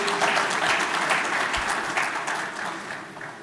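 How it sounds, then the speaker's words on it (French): An audience at the AgroItDays 2023 convention signing bursts into steady, dense applause, a loud continuous wash of clapping that tapers slightly toward the end. "Alors on peut applaudir cette première convention"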